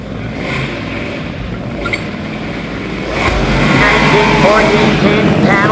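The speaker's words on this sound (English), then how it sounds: "race fans, please cover your ears when Kerry does his burnout. This is a very loud race car." A very loud race car doing a burnout, a 1914 King panel van with an all-aluminum 408 cubic inch small block Chevrolet, roaring steadily and growing louder partway through, with a public-address voice in the background.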